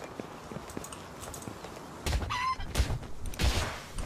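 A chicken-like creature in the video game Palworld clucks in short bursts partway through, loud and close over a busy game soundtrack with sharp hits.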